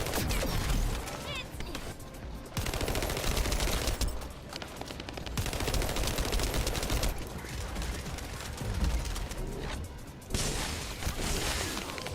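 Rapid automatic gunfire of fire-element ammo in the shooter The First Descendant, on the Fortress map, rattles in dense bursts with short gaps, loud and continuous, with game effects mixed in.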